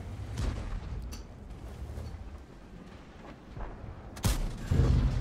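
Tank cannon fire in the World of Tanks video game, a few heavy booming shots, the loudest near the end, over a constant low rumble of battle noise.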